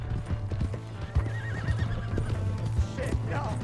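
Horse from Red Dead Redemption 2 whinnying over a steady clatter of hooves, close and fairly loud, with game music and faint voices mixed underneath.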